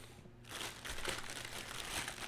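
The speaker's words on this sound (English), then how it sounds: "Comes in a plastic bag." A fishing reel's plastic packaging bag crinkling and rustling close by, a steady run of crackly handling noise after a brief quiet moment.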